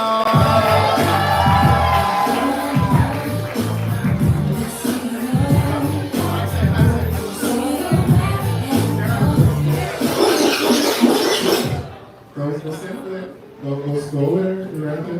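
A live poetry-night audience cheers, whoops and claps for the next poet, a loud crowd noise with shouted voices and talk mixed in, then dropping off abruptly near the end.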